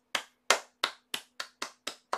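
Eight sharp, close hand claps at an even, brisk pace, each one crisp and separate with silence between them.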